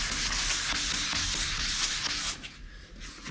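On a 1954 VW Beetle body, sanding powder is rubbed into 320-grit scratches, making a close, steady abrasive scrubbing that eases and turns fainter and uneven near the end, with no speech.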